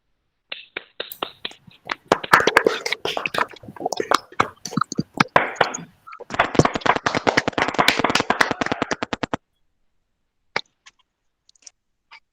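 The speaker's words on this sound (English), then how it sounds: "Can we have a round of applause for all the winners?" A small audience at a World Music Day celebration applauds the winners, scattered claps building into a burst of close hand-clapping that cuts off, followed by a few stray claps.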